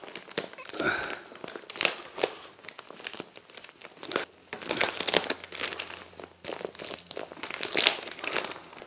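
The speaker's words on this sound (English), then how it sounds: "I'm now going to peel off the back very carefully." Backing is peeled slowly off aluminium foil tape while insulating a garage door, giving close crinkly, tearing rustles that start and stop irregularly throughout, with no speech.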